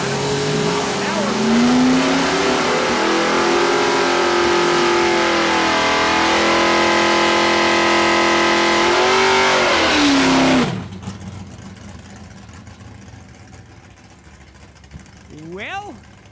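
A '76 Plymouth Duster drag car roars down a quarter-mile strip, its engine loud and rising through the gears for about ten seconds before cutting off abruptly, leaving quieter track ambience and a brief high whine near the end.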